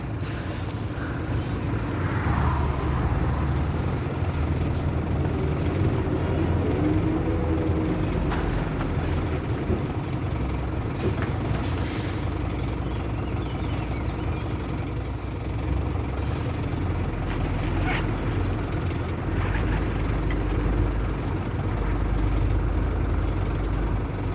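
An empty truck pulls away after unloading a tractor, its diesel engine a steady, loud, continuous rumble with faint hissing over the top and no voices.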